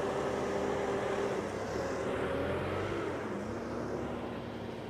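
A 2016 Bobcat FC200 machine's engine idles steadily and loudly up close, a continuous low droning hum with faint tonal whine that holds even throughout.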